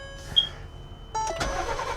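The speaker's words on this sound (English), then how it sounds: "Started right up, no check engine lights." Engine of a wrecked 2020 CrossTrek RV cranking and catching, a short starter whir followed by the motor settling into a steady idle, close by and moderately loud.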